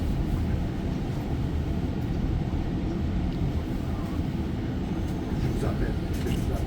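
Inside an REM light rail train running on the opposite track during a service disruption, a steady loud rumble of wheels and motors fills the whole stretch with faint rattles on top.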